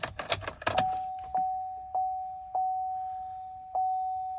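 Car keys jangle briefly while additional keys are programmed for a 2018 GMC Sierra, followed by a run of single electronic chimes from the truck, spaced about half a second to a second apart.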